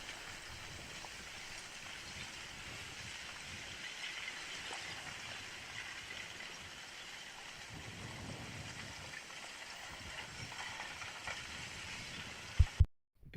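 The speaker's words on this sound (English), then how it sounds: "sometimes you notice a strange sound with these craggy, rough lava flows" A craggy, rough lava flow creeps forward at Shiveluch volcano in Kamchatka, giving a steady, dense rustling hiss with soft crackles and a low rumble throughout. It cuts off abruptly near the end.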